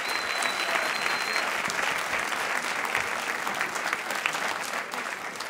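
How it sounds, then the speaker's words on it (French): Sustained applause from a studio audience on a televised singing competition, The Voice Afrique francophone, dense and steady throughout with a faint crowd murmur underneath. "Vous pouvez applaudir Isongo"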